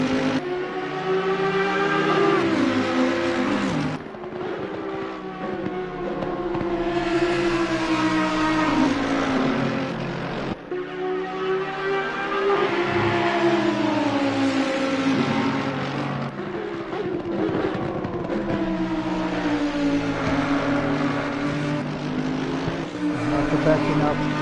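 Two Audi race cars running nose to tail at Spa-Francorchamps, their engines droning loudly with rising and falling pitch as they pass, under steady commentary.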